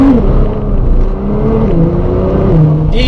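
A supercar engine pulls hard, close and loud, through wet corners in the rain, its pitch climbing, dipping and climbing again as the throttle is worked.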